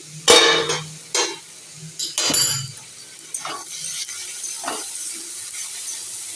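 Metallic clinks and clatter as a lid is lifted off a pan of frying cabbage, a few sharp knocks followed by a softer sizzle underneath.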